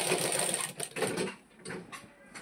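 A sewing machine runs in short bursts stitching a jacket body, its needle rattle fairly quiet and close, pausing and restarting with no speech.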